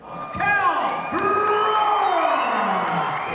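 A crowd at boxer Kell Brook's weigh-in at Meadow Hall cheers and whoops loudly, with high shouts rising over a sustained roar of voices that carries on throughout.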